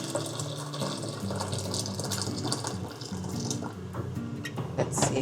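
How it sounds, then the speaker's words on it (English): Boiling hot water pours into a cooking pot with a steady splashing fill, fairly quiet and without talk. "My hot water is already boiling, so we're gonna add that in there."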